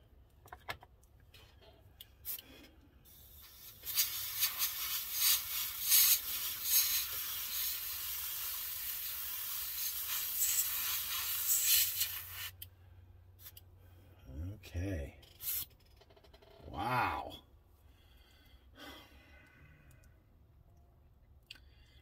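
A can of Molotow liquid chrome paint sprays in one continuous loud hiss lasting several seconds during a candy paint job, followed by quieter handling noises and a few short knocks.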